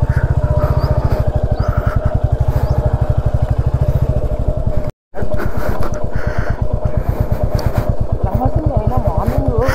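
A motorcycle rides an off-road route between Gudisa and Lambasingi, its engine thumping loudly and close in a rapid, steady pulse. The sound cuts out for a moment midway, and a voice speaks over it.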